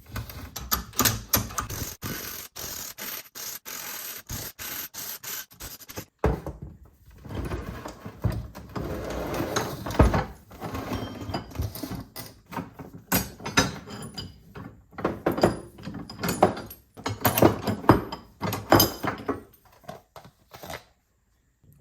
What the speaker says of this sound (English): Now we can take the tension out of the spring one more time so we can pull it out